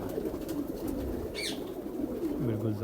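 A domestic pigeon coos once, briefly and fairly close, over a steady background hum.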